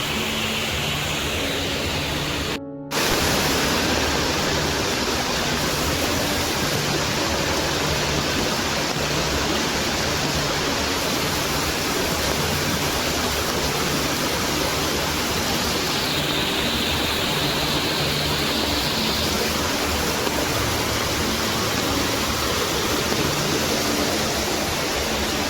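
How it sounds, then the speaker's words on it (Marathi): Rain-swollen stream in the Konkan rushes downhill after heavy rain, a loud, steady, close roar of flowing water that holds unbroken throughout. "एवढा पाऊस पडला आहे आणि हे पाणी वाहतंय"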